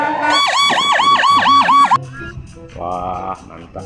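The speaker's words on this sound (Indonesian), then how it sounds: "kalau yang ini mobil ambulan teman-teman" A toy ambulance siren wails in a rapid, repeating up-and-down pattern, loud and close, then cuts off and gives way to a shorter electronic tone.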